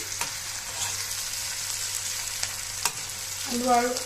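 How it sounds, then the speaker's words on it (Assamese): Fish belly and potatoes sizzle and fry steadily in a pan while being stirred, with a scrape of the spoon near the end and faint bubbling throughout. "এয়া মই মাজতে লৰাই দিছোঁ"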